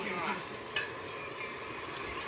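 A ladle stirs food in a pot with scraping strokes and a couple of light metallic clinks over a faint sizzle, close and continuous for about two seconds.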